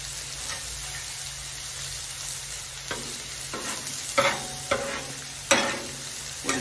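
Poblano peppers and onions sizzle on a hot griddle, a soft continuous crackle broken by a few sharper scraping and tapping sounds of a spatula near the end.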